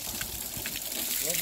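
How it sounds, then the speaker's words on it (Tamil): Spring water runs without pause from a stone Nandi spout beside the pond of an ancient Shiva temple at Ramagiri Konda. It makes a continuous soft gushing and trickling, with voices nearby. "இந்த நந்தி தண்ணி வந்து எங்கிருந்து வரது தெரியாது, நிற்காம வருது"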